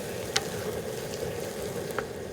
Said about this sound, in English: now stir it all up and I'm gonna season it